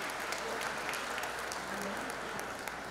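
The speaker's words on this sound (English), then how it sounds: "Antonio Vargas, let's give him a round of applause." A large audience applauds at a stuntmen's gala, a dense, steady wash of clapping from many hands that holds at an even level for the whole stretch.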